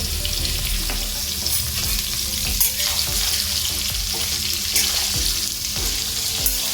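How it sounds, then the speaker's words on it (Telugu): Bitter gourd pieces fry in a pan on a low flame with salt and turmeric, giving a continuous close sizzle with occasional stirring scrapes and no voices. "అలానే హైలో పెట్టకండి, సిమ్లో పెట్టే వేయించండి."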